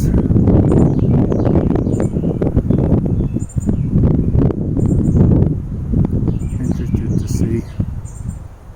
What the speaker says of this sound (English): Showing you there's a little bit of wind today, not much.